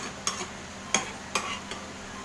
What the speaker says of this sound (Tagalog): Ayan po, haluin natin mga kaluto.